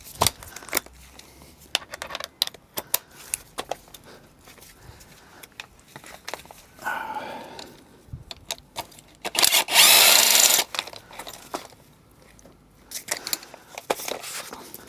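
Spark plugs being worked out of a Porsche Boxster engine with hand tools: sparse clicks and ratchet-like ticks, short metallic scrapes and a louder burst of rasping, close by.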